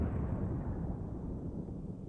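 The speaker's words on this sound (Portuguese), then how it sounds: "De repente, houve uma violenta explosão debaixo d'água." Violent underwater explosion that sank the WWI hospital ship Britannic off the island of Kea in 1916, heard as a sustained, heavy low rumble that stays loud and dense throughout with no voices.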